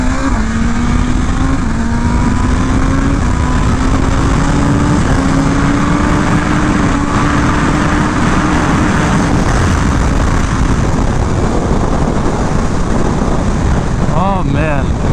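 A 2023 BMW M1000RR motorcycle engine droning steadily while riding, a loud continuous engine hum slowly climbing in pitch with heavy wind rush throughout.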